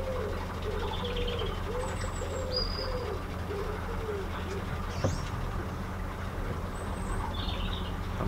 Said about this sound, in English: And a common wood pigeon.